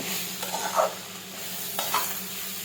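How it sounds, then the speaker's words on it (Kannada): Egg and cabbage palya sizzles quietly in a pan while a spatula stirs it, with two brief scraping strokes standing out over the low, steady frying. "ಈಗ ಫ್ರೈ ಆಗಿದೆ."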